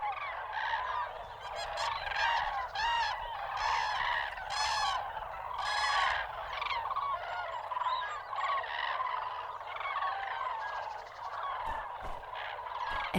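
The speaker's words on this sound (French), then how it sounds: "les grues se réveillent avec le soleil levant" Cranes call loudly at sunrise on the étang de Cousso nature reserve, a dense, continuous chorus of overlapping bugling and trumpeting cries from many birds at varying distances, with no voices.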